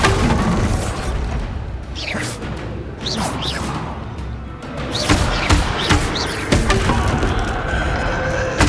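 Bombarda blasting-spell explosions in Hogwarts Legacy: several loud booming bursts with swishing whooshes, spaced a second or so apart over a dense, noisy game soundscape.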